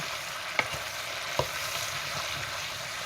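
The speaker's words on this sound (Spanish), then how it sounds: "Vamos a remover y también vamos a esperar que estos ingredientes suden y reblandezcan." Red pepper and carrots frying in a pan, a steady bright sizzle with two sharp utensil scrapes and knocks as the vegetables are stirred.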